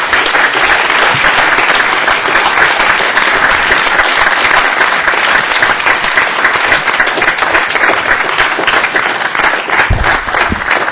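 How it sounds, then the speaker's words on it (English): A room full of people at a board of trustees meeting breaks into loud, sustained applause, dense clapping that continues steadily without pause throughout. "They all deserve a round of applause."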